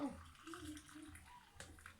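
Pickling liquid pours into a jar of submerged onions for homemade pickles, a close, steady watery splashing that runs about two seconds beside faint speech.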